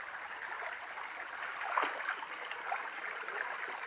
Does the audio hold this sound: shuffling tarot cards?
no